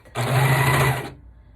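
A sewing machine runs in one steady burst of about a second as it stitches along the side seam of a sweater being taken in, then stops. The motor hum is close and loud, with no talking over it.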